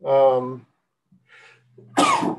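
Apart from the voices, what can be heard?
sneeze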